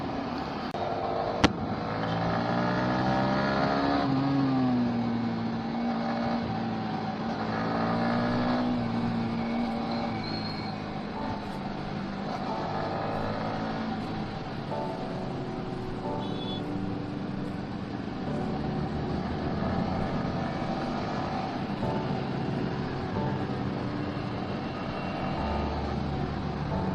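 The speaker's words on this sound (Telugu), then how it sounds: "చాలా ట్రాఫిక్ ఉంది ఈరోజు" Busy morning road traffic heard from a vehicle, a continuous engine and road rumble with passing cars and the occasional horn, no talk.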